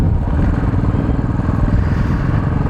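Motorcycle engine fitted with a Red Rooster silencer, a loud, close, steady throaty exhaust thump with continuous low rumble and no speech.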